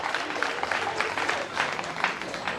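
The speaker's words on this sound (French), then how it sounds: "j'aimerais qu'on applaudisse pour cette création" A ceremony audience in a hall applauds a cultural association's creation, with dense, continuous clapping from many people at moderate volume throughout, overlaid with faint crowd voices.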